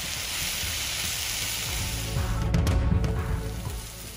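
Onions sautéing in a pan with salt, turmeric and fennel powder, a steady close sizzle and crackle that swells briefly midway, with no voices.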